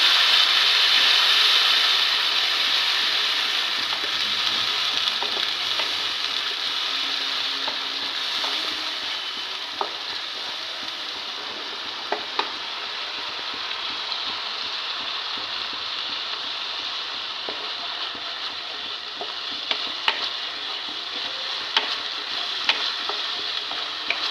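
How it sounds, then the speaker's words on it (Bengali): Ginger, garlic and onion paste sizzles steadily in a hot pan while being stirred, a continuous bright frying hiss with soft scraping and occasional spoon taps against the pan, close and loud throughout, no voices. "এবারে আমি এখানে দিয়ে দিচ্ছি আদা আদা রসুন আর পেঁয়াজ একসঙ্গে পেস্ট করে নেওয়া দিয়ে দিচ্ছি ভালো করে নাড়াচাড়া করে নিতে হবে"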